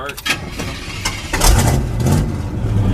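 A 1969 Chevy C10 CST pickup truck cranks and catches, its engine rising into a loud, rough idle with light revving up close while people talk over it.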